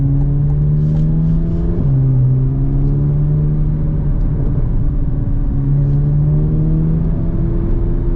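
A 2024 Chevy Corvette Z06 engine pulls and accelerates in a dense, loud rumble, its tone climbing in steps with shifts, heard close from inside the car with no talking.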